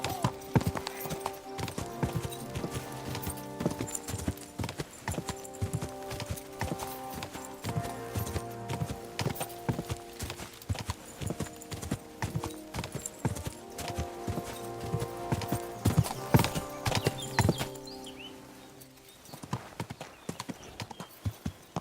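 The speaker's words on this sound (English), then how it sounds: "You're riding our horse!" Rapid, rhythmic hoofbeats clatter continuously alongside driving game music in Kingdom Come: Deliverance II, a galloping horse close and loud before the sound thins near the end.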